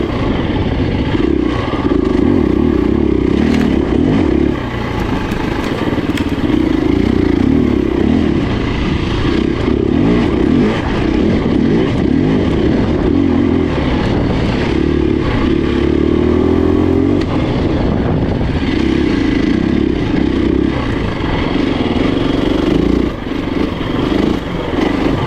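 A KTM 350 enduro motorcycle is ridden with its engine droning loud and close throughout, the revs rising and falling steadily with no talking.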